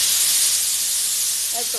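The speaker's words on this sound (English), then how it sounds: "I get rid of the excess steam out of the tank there" A Laura Star steam iron releases excess steam from its tank in a loud, continuous hiss that holds steady, with a faint voice starting near the end.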